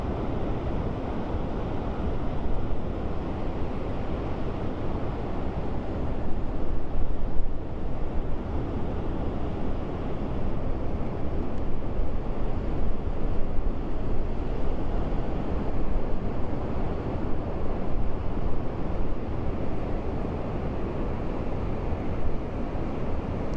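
Sea waves break steadily along the shore at Puerto de la Cruz, Tenerife, under a full moon, a loud, continuous wash of surf with wind buffeting the microphone and one stronger surge partway through, and no voices.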